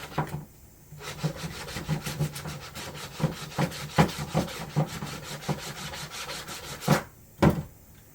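Rhythmic rasping strokes of sandpaper rubbing plastic and resin on a car A-pillar, repeated back and forth at a steady pace, close and fairly loud.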